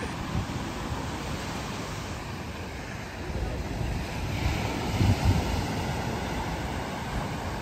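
Ocean surf and wind on a beach in Mauritius, a steady, loud roar of breaking waves and gusting air that swells slightly around the middle, with no voices.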